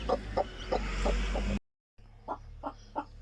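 A broody hen gives a run of short, low, evenly spaced clucks close by, pauses briefly, then resumes with a few softer clucks against quiet background.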